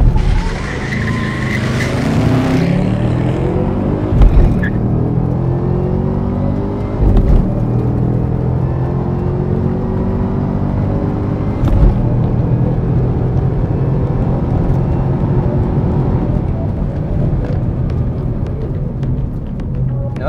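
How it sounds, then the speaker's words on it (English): A 2012 Chevrolet Camaro ZL1 launches hard with tire squeal and wheelspin, then accelerates loudly through rising engine revs and gear changes, close and continuous for about twenty seconds. "Now that's the fastest way to launch a ZL1"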